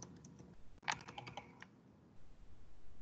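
Keys on a computer keyboard are tapped in a quick burst of about a dozen crisp clicks, with a sharper keystroke among them, close and fairly quiet, then soft background noise.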